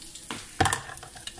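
Onions sizzle and fry in a hot pan for a Bikol Express dish, with a sharp burst of crackling as they land about midway, then a steady spitting hiss close by.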